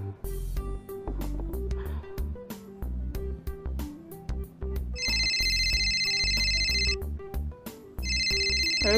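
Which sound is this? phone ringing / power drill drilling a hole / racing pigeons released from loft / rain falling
phone ringing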